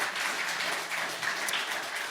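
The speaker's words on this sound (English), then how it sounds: "Would you all please give our 2 candidates a round of applause for their time?" Audience applause at a city council candidate debate fills the room, a continuous wash of many hands clapping at a steady level throughout.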